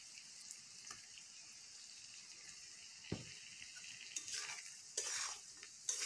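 Small borali fish added to a pan with onion for a fish curry, a faint sizzle at first, then louder bursts of spitting and stirring near the end.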